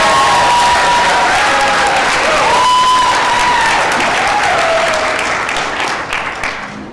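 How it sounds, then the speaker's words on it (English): A crowd applauds honor graduates at a graduation ceremony with dense, steady clapping that fills the room for several seconds before thinning out and fading at the end. "So again, please give them one more round of applause."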